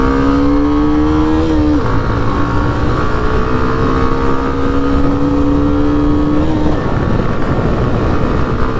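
A 2024 Hero Xtreme 125R 125cc motorcycle engine revving hard while accelerating, loud and close, with a steady rising drone that drops briefly at a gear change and then climbs again through the next gear.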